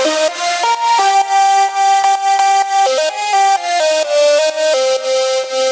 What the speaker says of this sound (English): It sounds kind of like it's going through a vocoder or something like that.